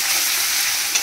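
Minced mutton sizzles in a hot pan with a home cook stirring it, giving a steady close frying hiss with a brief scrape near the end; no talking.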